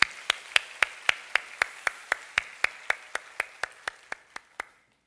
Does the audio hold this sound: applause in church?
yes